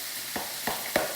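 Steak for a steak sandwich fries in a hot pan with a continuous, fairly loud sizzle, broken by three sharp spitting pops, close up and with no talk.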